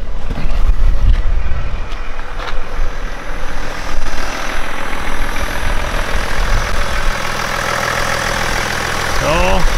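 A BMW M57 diesel engine with no DPF idles close by, a loud, steady clattering rumble that runs throughout, with a few sharp knocks near the start.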